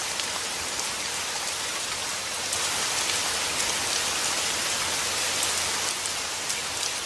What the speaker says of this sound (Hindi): फिर एक दिन अचानक जोरदार बारिश होती है।